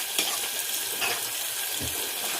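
A brinjal and potato curry is stirred and mashed in a pot on the stove, soft scraping and squelching strokes over a quiet background sizzle.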